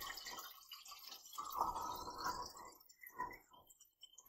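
Fixer chemistry pours into a tilted film developing tank, a steady splashing liquid gurgle that swells and fades over a few seconds, heard alone.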